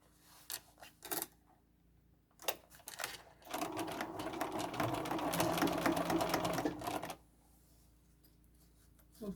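Sewing machine stitching a red velvet tote bag, with a zipper foot fitted: a couple of short needle bursts, then a sustained steady whirring run of about four seconds, close and clear, before it stops.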